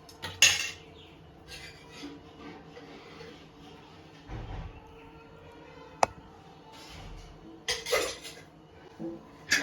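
A pressure cooker is closed in a kitchen, with scattered metallic clinks, lid clatters and a sharp click amid quiet handling noises, close by and without talking.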